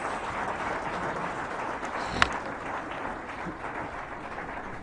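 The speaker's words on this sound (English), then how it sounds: "Please, another round of applause." Audience at a Middle Belt Save Nigeria conference applauding, a dense, steady wash of clapping filling the room, with one sharper sound midway.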